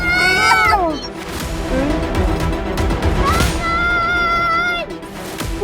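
Cartoon cat meowing in a Malaysian animated series, with loud rising and falling meow calls at the start and again near the middle and end, over a busy backdrop of music and effects.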